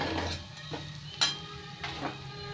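Cumin and coriander powder fry in oil in a pan for an egg curry, with a soft sizzle under several scraping stirs of a spoon, close and moderately quiet without talk.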